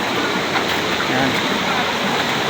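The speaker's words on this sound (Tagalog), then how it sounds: "Masisilayan na natin ang Dibolo Falls na tinatawag nila." Dibulo Falls waterfall in Dinapigue, Isabela, a dense, steady roar of rushing water close by, with a voice speaking faintly under it.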